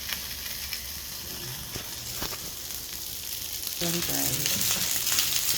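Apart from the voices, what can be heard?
rice with garlic frying in bacon fat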